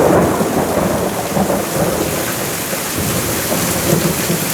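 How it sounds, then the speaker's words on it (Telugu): Deep thunder rumbles through a steady roar of heavy rain, loud and close, with no voices. "పిడుగుల సౌండ్లు"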